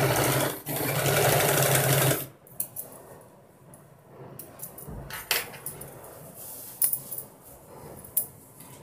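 A sewing machine stitches a vintage designer blouse, running loud and steady for about two seconds, then falls quiet to faint rustles and small clicks of handling.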